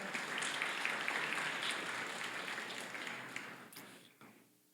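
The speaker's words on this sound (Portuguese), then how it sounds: "Vamos dar uma salva de palmas para a palavra de Deus." A church congregation applauds steadily at a religious festival, a dense wash of clapping from many hands that fades out toward the end.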